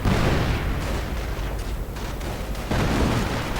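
Rifle fire and explosions rage in a World War II video game pitting US riflemen against Wehrmacht troops, a dense, continuous loud barrage of shots and blasts with no pauses.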